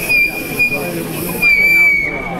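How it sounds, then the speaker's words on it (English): A whistle blown to signal time to stop at a community meeting gives a sustained high tone that sounds twice, once near the start and again in a longer blast, over a noisy room of crowd chatter. "I'm going to blow the whistle"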